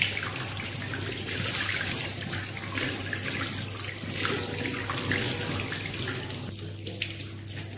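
A tap runs steadily into a sink while hands are washed, the water's hiss continuous and close for the whole stretch, with no voices over it.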